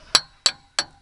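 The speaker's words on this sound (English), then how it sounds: "a bit of a hammer gets it through" Hammer tapping a boat trailer roller into place, three sharp, evenly spaced metallic knocks, close and clear with short decays and no talk.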